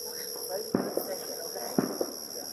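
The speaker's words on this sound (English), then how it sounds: "That sound you hear is fireworks." Two sharp distant fireworks bangs about a second apart, each followed by a quick echo, over a steady electronic hum.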